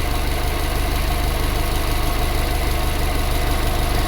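A 2007 Subaru Forester with a head gasket problem idles at about 758 RPM, giving a steady, close, even engine rumble with a faint rhythmic pulse and no voices.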